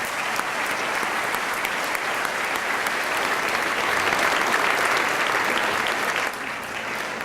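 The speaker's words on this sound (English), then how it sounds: "Please join me in applauding them." Sustained, dense applause from a banquet audience at a scholarship awards dinner in South St. Paul, steady throughout and dipping slightly near the end.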